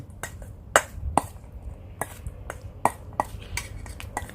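A Thai grilled mackerel salad with chopped spring onion, coriander and coriander root is tossed in a bowl, giving quiet, irregular clinks and scrapes of a utensil against the dish.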